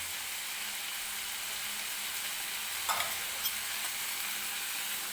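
A cauliflower and pea bhaji mixed with roasted peanut powder is stirred in a hot pan, giving a steady close sizzle with a few scraping spoon strokes.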